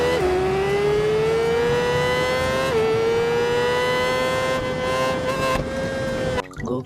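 A toy MotoGP racing motorcycle gives off a loud, continuous high-pitched engine whine whose pitch climbs in steady sweeps, drops once, then climbs again, before cutting off abruptly at the end.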